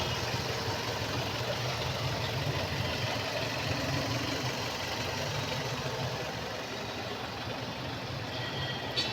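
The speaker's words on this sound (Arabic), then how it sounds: "ادي العربيه دايره اهي." Chery Tiggo 3 car engine running after a piston ring replacement, a steady close-up mechanical idle with dense rattling texture and continuous hum, unbroken and fairly loud, with no voices.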